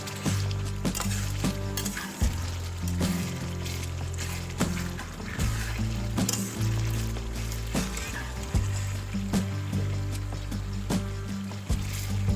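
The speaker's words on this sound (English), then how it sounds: "Then add chili paste we made previously. Slowly simmer for 15 minutes until well combined." Homemade chili paste simmering in a pan for garlic chili sauce, a steady soft sizzle and bubbling with occasional stirring scrapes and clinks, close and fairly quiet.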